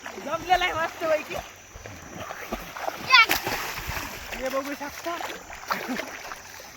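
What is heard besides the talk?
water splashing in the Godavari river during a jump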